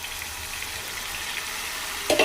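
Dried red chilies fry in oil in a pan for chili soybean, giving a steady soft sizzle throughout, with a brief louder crackle near the end.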